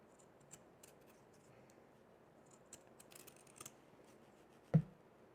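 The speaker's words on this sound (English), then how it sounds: "I'm also going to cut off that extra elastic that we don't need." Scissors snipping off surplus elastic while making a crocheted mug cozy: faint, scattered small cutting ticks, then one sharp, louder snip near the end, close up in a quiet room.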